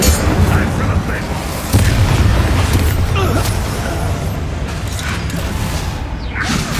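Incendio fire spells cast in Hogwarts Legacy sound as repeated booming, crackling bursts over continuous combat noise and creaking mechanisms, loud and close, with a voice talking briefly underneath.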